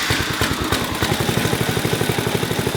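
A junkyard go-kart's Tecumseh engine idles on a freshly installed carburetor, putting out a steady, fast chugging putter with a slight clatter, close and loud and running evenly the whole time.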